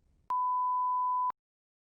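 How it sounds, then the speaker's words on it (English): A single clean electronic beep in a TOEFL speaking practice test, about one second long, steady pitch, isolated in silence. "You may begin preparing after the beep."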